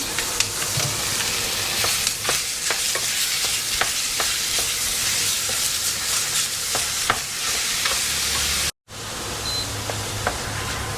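Beef mince browns in a pan on an induction hob, a steady sizzle under repeated scraping stirs of a spoon, broken by one brief silent gap near the end.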